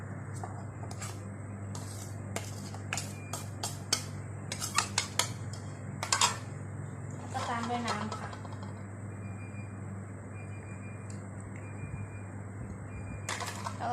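Cornstarch and crispy frying flour stirred into a batter in a bowl with water added gradually, light clinking and tapping of a utensil against the bowl in irregular bursts, with someone talking over it.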